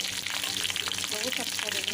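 Stuffed capsicum sizzles and crackles in hot oil in a pan, a dense, continuous frying hiss heard up close with no talking.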